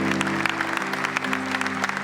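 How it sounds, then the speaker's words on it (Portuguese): A church congregation applauds after a Catholic Mass reading, a dense patter of clapping from many hands over a sustained organ or keyboard chord. "Podemos aplaudir a palavra do Senhor?"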